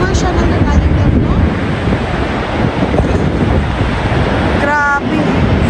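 The water of Niagara Falls rushes in a loud, steady roar with heavy wind buffeting the microphone and faint voices in the background.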